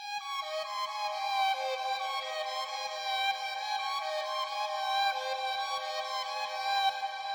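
A synth pattern from the Arminator plugin in FL Studio, dry with no effects, sustains bright, buzzy tones that step down in pitch and then hold steady, alone with no talking.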